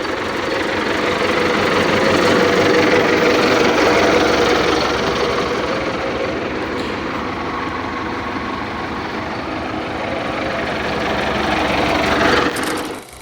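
A Belarus MTZ-82 tractor engine idles steadily with a low, knocking diesel rumble and vibration, close by and continuous, with no voices.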